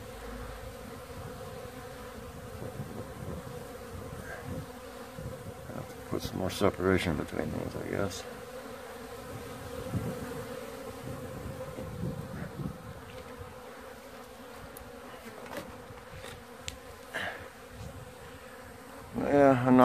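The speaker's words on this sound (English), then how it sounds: "It's very active today. I think what we're witnessing here is some drifting." Honey bees buzz steadily around a hive, a dense droning swarm close by, while someone talks over them now and then.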